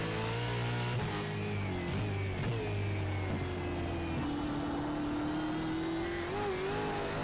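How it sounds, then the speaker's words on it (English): Ford Mustang V8 in a racing video game, heard from inside the car at Long Beach circuit: a loud continuous engine drone with shifting revs and gear changes, no talk. "It's still a massive V8, but it does sound slightly different."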